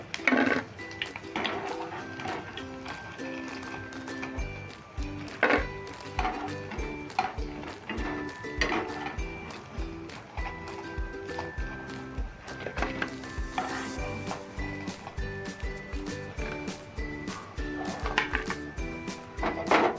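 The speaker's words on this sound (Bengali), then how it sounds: "এবার দ্বিতীয়বার এগুলো ভেজে নিচ্ছি" Sabudana pakoras deep-fry in hot oil during a second frying, with a steady crackling sizzle punctuated by repeated clinks and knocks of a utensil against the pan, with no talking.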